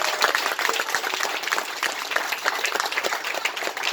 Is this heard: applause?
yes